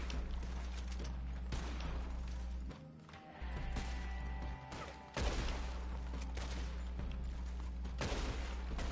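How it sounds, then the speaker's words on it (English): Explosive-round gunfire in Red Dead Redemption 2, a western video game: repeated heavy shots and bursts with booming impacts over a constant low game rumble, loud and near throughout. "I'm using explosive rounds."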